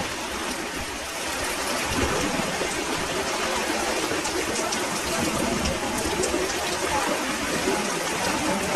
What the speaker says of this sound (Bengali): এরপরে প্রচুর বৃষ্টি হচ্ছে।